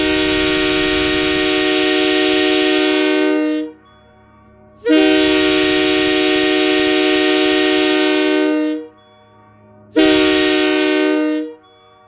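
K3L train horn blowing three loud, close blasts: two long ones of about four seconds each with short silent gaps between, then a shorter third, each a rich chord-like tone.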